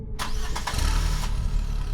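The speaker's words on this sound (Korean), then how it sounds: "적막한 가운데 엔진 소리가 울려 퍼진다." A car engine cranks briefly, catches, and settles into a loud, steady idle close by, with no one talking.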